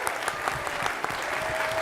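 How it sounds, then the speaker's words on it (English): Audience applause for the finalists at an environmental storytelling summit, a steady wash of many hands clapping at moderate volume with a few sharper claps standing out, with no talking over it. "Give them a round of applause."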